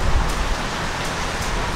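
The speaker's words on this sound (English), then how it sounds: "a bit of rain and a bit of cold" Steady rain with a dense, even hiss of drops that stays constant and fairly loud throughout, with no voices.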